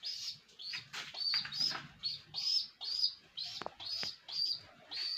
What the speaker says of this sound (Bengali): আর এইদিকে দেখেন একটা কবুতরের বাচ্চা,